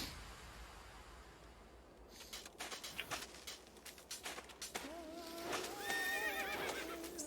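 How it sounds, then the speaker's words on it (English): Horses in the online game Tibia trot with soft clip-clop hoofbeats, then give clear, fairly loud neighs and whinnies toward the end, with no speech over them. "They do make horse sound."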